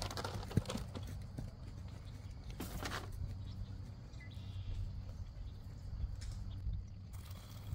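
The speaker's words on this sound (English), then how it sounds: "These horses really want to come over here and eat this." Horses moving about close by on a farm field being sown with grain, soft irregular hoof clops and shuffles over a low rumble, with a few birds chirping faintly in the background.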